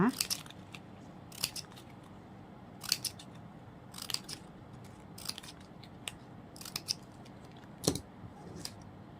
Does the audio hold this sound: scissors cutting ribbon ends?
yes